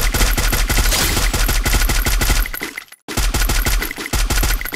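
Rapid automatic gunfire rattles through a Garena Free Fire match in sustained loud bursts. There is one brief gap, and then the firing resumes just as dense.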